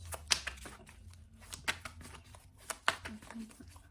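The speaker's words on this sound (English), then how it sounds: "I have heard some of you like the shuffling on camera, so I went ahead and did that" Tarot cards being shuffled by hand, heard as soft riffling and sharp snaps at a few scattered moments, near and fairly quiet, with a quiet voice talking now and then underneath.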